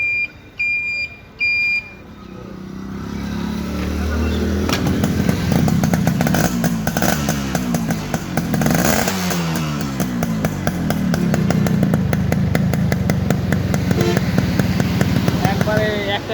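A Yamaha RX 115 motorcycle in fresh condition idles with a steady two-stroke engine rumble that runs close and loud for most of the stretch, after a few short beeps at the start.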